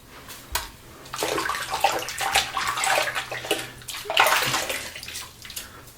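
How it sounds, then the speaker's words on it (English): Hot water running from a bathroom sink tap onto hands during a wet shave, a steady close splashing wash with shifting flow and louder bursts as the hands move under the stream. "hot water on my hands from the sink"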